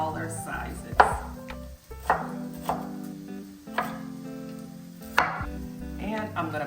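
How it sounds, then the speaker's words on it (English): A knife chops broccoli florets into smaller pieces on a board, with about six distinct sharp cuts at uneven intervals, close and clear over quiet music. "I'm gonna take some broccoli florets and just cut them into smaller sizes"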